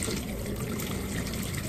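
Tap water runs steadily while meat is washed for sinigang sa mangga, a smooth, even splashing stream close by with no voices.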